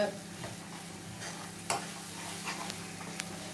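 Mushroom masala sizzles softly in a pan while being stirred, with a faint steady frying hiss broken by a few scraping clinks of the spoon against the pan.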